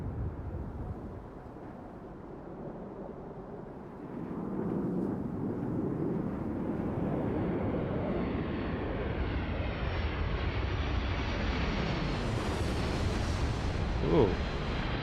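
A spaceship lifts off in Starfield with a deep building roar that swells and brightens into a sustained rushing thrust, loud and continuous for the whole stretch.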